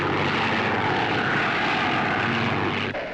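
Spitfire fighter plane in flight, its piston engine giving a loud, steady propeller drone that holds close and unbroken throughout, with a slight dip near the end.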